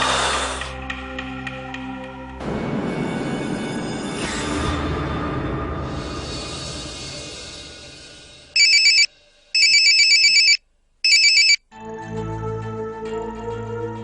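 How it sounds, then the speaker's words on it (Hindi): An electronic ringtone sounds in three loud bursts with short gaps, between stretches of background music. "उठाओ भाई, फोन उठाओ।"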